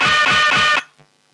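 A DJ scratch sample caught in a very short auto loop, repeating as a harsh, buzzy stutter about three times in quick succession before cutting off abruptly into near silence, loud and up front.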